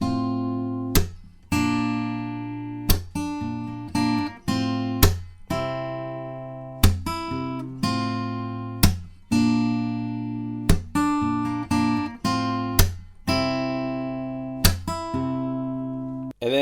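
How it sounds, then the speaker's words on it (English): Acoustic guitar fingerpicking a pattern, with bright plucked notes ringing over a steady rolling pattern and occasional louder accents, played alone without talk. "And in total, the more difficult picking pattern can sound like this."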